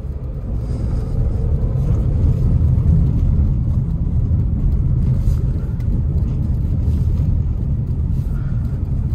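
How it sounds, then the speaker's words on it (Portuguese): Car interior rumble from a Jeep Compass with about 23,000 km, a steady low road drone with no distinct bump impacts standing out, loud and continuous without talk. "Tanto quebra-mola, gente."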